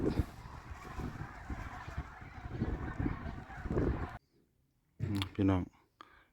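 Ducks or geese honking and calling outdoors for about four seconds, a dense, steady flock chorus, followed by a short pause and a brief burst of louder, nearer calls.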